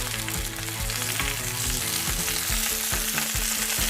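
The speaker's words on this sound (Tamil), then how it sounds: "தாளிப்புக்கு தேவையான பட்டை, கிராம்பு, லவங்கம், அன்னாச்சி இலை இதெல்லாம் போட்டு கொஞ்சம் சோம்பு போட்டு நீங்கள் தாளிச்சுக்கோங்க" Whole spices (cinnamon, cloves, bay leaf and fennel seeds) crackle and sizzle loudly in hot oil as the tempering for a mutton curry begins, with a steady fry broken by rhythmic scrapes of stirring.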